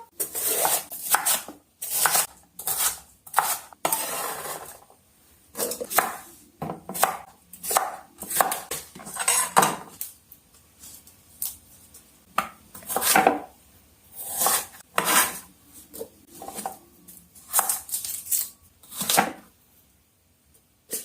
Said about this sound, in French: Donc on coupe tout en petits morceaux.